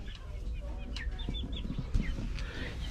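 Roosters on a farm give short, scattered clucks and a few brief calls over a low steady background hum, fairly close and moderately quiet, with no talking.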